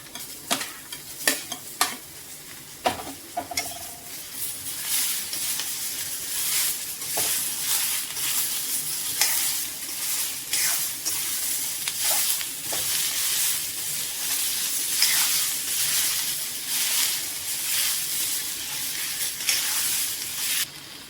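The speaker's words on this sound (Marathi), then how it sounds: "याच्यातच थोडं टमाटर टाकून याला थोडं भाजून घेऊ" Tomatoes are roasted and stirred with onions in a pan while preparing paneer masala: a steady sizzle and hiss of frying with repeated scraping stirs and a few sharp utensil clinks early on, close and continuous, with no talk.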